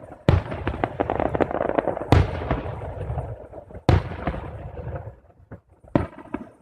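Fireworks of a city salute in Bryansk bursting overhead, several loud booming detonations a couple of seconds apart with crackling and rumbling tails between them, close and powerful.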